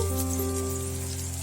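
Thin-cut brinjal pieces frying in oil with tempering spices, a continuous soft sizzle with fine crackle, steady and close, alongside a constant background hum.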